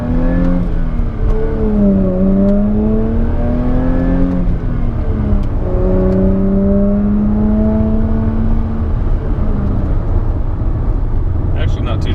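A supercharged 2016 Jaguar F-Type with a six-speed gearbox driving and accelerating, its loud engine note rising and falling through the gears, heard steadily from inside the car.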